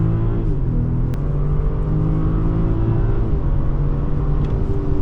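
A 2024 BMW X4 M40i SUV accelerating hard, its engine note rising in steady harmonic sweeps with a continuous loud rumble heard from inside the cabin, no talking.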